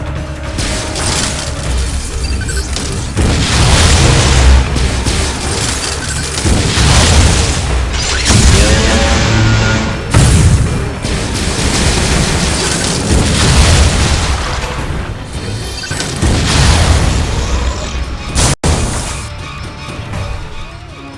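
Missile fire in the action game Metroid: Other M, a chaotic run of loud booming blasts, crashes and mechanical clatter, repeated in bursts with a sharp crack near the end.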